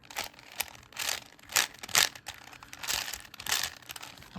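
A 5x5 Rubik's cube being scrambled by hand gives a rapid series of plasticky clicks and ratcheting turns in irregular bursts, close up and fairly quiet, with no talking.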